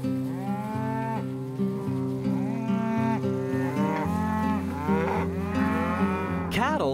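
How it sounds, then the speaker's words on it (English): Cattle on a Midwest ranch in southeastern Illinois low repeatedly, several drawn-out moos overlapping one another, loud and close with no talking. "Cattle have been grazing the grasses on the Flying S Ranch for a very long time"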